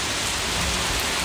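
Heavy rain pours steadily during a storm at an outdoor graveside gathering, a dense, loud, unbroken roar with no voices.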